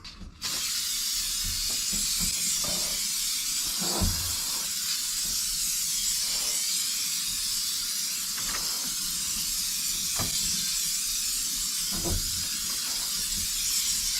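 An aerosol can sprays dye onto the headliner of a classic car, a long steady hiss that runs almost unbroken at close range, with faint rattles and clicks in between and no talking.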